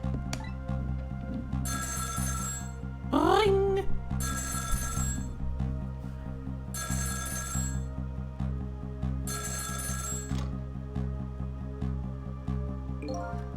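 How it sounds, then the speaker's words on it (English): A telephone rings in the Ghost Trick: Phantom Detective video game, four evenly spaced ringing bursts over steady background music, with a brief springy cartoon voice effect early on. "About 2 hours before dawn, the phone rang."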